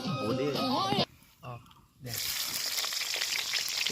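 Pork dropped into hot oil in a wok, a loud steady sizzle and frying hiss breaking out after a pause, with a person talking over the start.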